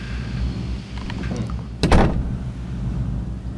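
A door is handled at midnight, with a single sharp knock-like thunk standing out briefly over a steady background hum.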